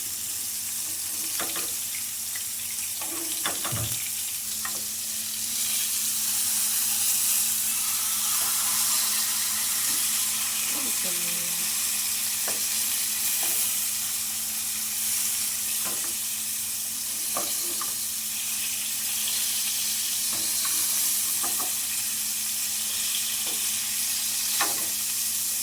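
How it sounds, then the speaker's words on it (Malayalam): Pieces of fish fry in hot oil in a home kitchen, giving a steady sizzling crackle throughout with occasional clinks of utensils and a faint hum underneath, no speech. "ഈ മെല്ലെ വറുത്തെടുത്ത മീനിനെ ഇങ്ങനെ വയ്ക്കാം"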